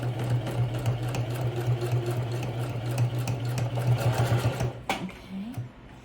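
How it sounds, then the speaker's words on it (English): A sewing machine stitches a toiletry pouch in a steady, rapid hum of needle strokes, close and loud, stopping abruptly near the end with a brief clunk. "I'm going to start to stitch"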